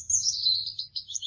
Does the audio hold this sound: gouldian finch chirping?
yes